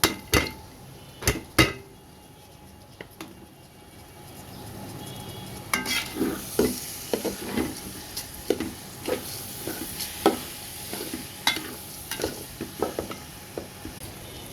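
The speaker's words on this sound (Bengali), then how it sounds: "এখন দিয়ে দিব আমি চালগুলো দিয়ে সুন্দর করে ভাজা ভাজা করে নেব।" Raw rice is fried in a pan for vegetable khichuri: a spatula scrapes and stirs in repeated sharp strokes over a low sizzle, with a few isolated clinks at the start.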